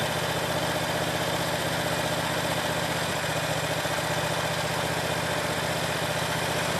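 A Predator 670cc engine with its governor bypassed and foot-pedal throttle control runs steadily at a fast, even pace, a loud continuous drone with buzzy vibration throughout and no voices.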